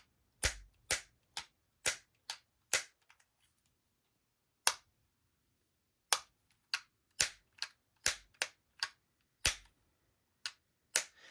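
Sharp, crisp clicks in quick bursts, the hinged lid of a fake Apple earbud case snapping open and shut over and over, with a brief pause midway, very close and dry.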